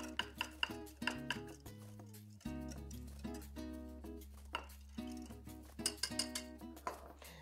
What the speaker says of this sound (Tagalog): So, i-mix lang po natin maigi.